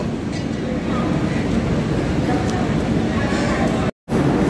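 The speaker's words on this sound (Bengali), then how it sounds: "আমাদের ট্রেন এখন এসে পৌঁছালো কাশিতে" The Howrah-Amritsar Mail train arrives at Kashi station, with a steady rumble and clatter of rail cars sustained throughout and a brief cut to silence near the end.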